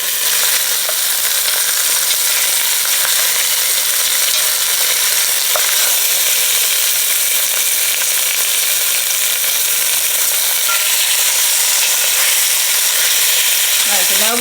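Beef pot roast searing in a hot pan, a steady loud sizzle and crackle of fat running throughout with a few faint clinks near the end.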